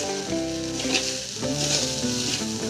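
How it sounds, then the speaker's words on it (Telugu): Flattened rice (poha) frying in a pan is stirred for a couple of minutes, giving a steady close sizzle with repeated scraping strokes, no voices. "ఇట్లా 2 నిమిషాలు అయితే కలుపుకోవాలి."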